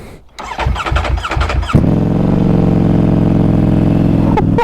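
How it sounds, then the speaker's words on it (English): A 2018 Ducati Panigale V4S motorcycle cranks with quick chugging bursts before its engine fires into a deep, loud, steady idle rumble close by, with a brief blip near the end. "Such a deep rumble when that first fires up."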